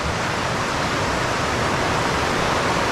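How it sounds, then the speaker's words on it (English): Rushing creek water on a mountain trail, a loud, constant, broadband roar of fast-moving stream with no pauses, heard up close and alone. "The creek here is really rushing."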